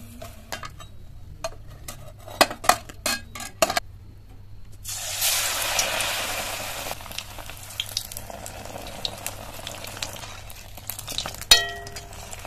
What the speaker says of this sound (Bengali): উল্টে পাল্টে ব্রাউন কালার করে ভেজে নেব